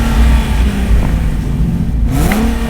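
Nissan 370Z with a six-speed manual revving, the engine climbing in a growling sweep, easing off, then rising again near the end, loud and close with no one speaking.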